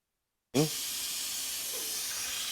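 Suction bleeder being hooked up to Porsche 997 Turbo brakes, giving a sudden close hiss that starts abruptly and then holds as a steady airy rush.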